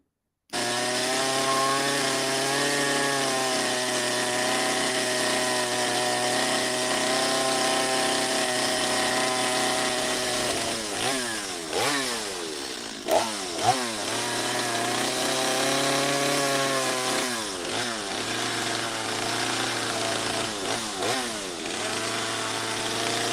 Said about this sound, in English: You could probably even hear the chainsaw in the background a little bit.